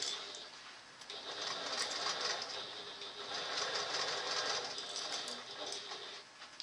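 A sewing machine stitches along the edge of a small fabric case, a steady continuous mechanical whir running unbroken at moderate, close level with no talk over it.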